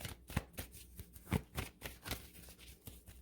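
Oracle cards being shuffled by hand for a spiritual reading, a quiet series of soft riffling slaps and rustles in an uneven rhythm, close and faint with no speech.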